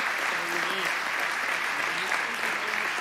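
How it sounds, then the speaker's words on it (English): Steady, dense applause from an evening audience at a school board candidate forum held in a church, filling the room at even loudness, with a faint voice or two murmuring underneath. "Now let's give all our candidates a round of applause."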